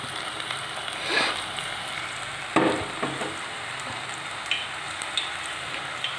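Curry leaves frying in hot oil on a low flame for masala peanuts, a steady crackling sizzle with sharper pops and spatters as leaves hit the oil, close and moderately loud with no talk.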